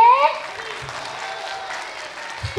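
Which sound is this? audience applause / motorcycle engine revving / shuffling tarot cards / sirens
audience applause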